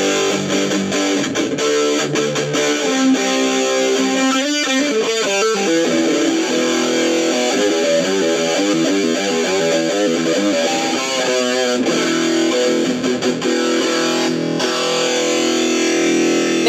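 An electric guitar plays through a boost pedal, filling the stretch with loud, sustained notes and ringing chords that shift in pitch, with no voices.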